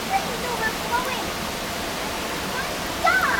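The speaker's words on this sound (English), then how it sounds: "Now we're turning into a river." Floodwater rushes through a yard like a river, a loud, continuous broadband roar with a few faint high chirps above it.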